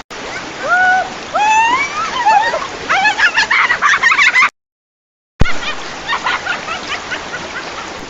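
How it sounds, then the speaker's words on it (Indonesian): Water rushes steadily as someone splashes into a flowing village river in rural Sawarna, Lebak, Banten. Loud broadband splashing fills most of the clip, with chirping bird-like calls early on and a short silent gap midway. "akhirnya aku nyebur di kali"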